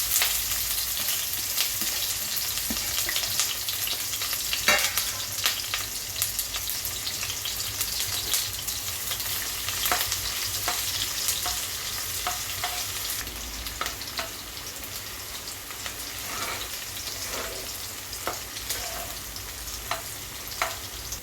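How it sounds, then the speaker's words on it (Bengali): Onions fried in oil in a wok for chicken pulao give a steady, close sizzle that runs for the whole stretch, with occasional sharper crackles and stirring scrapes and no voices. "পেঁয়াজটা ভাজা হয়ে গেছে এটাকে আমি তুলে নিচ্ছি"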